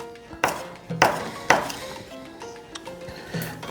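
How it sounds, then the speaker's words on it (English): Knife chopping fresh coriander small on a board, four or so sharp knocks spaced unevenly, fairly close, with quiet gaps between strikes. "We got some fresh coriander, which we are gonna chop kind of small."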